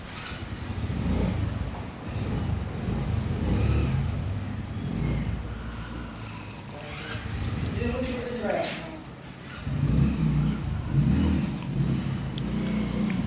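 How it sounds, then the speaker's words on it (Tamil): Motorbikes rumble past on a road, engines rising and fading in waves while people talk over the traffic. "பைக் வந்து போய்கிட்டே தான் இருக்குது"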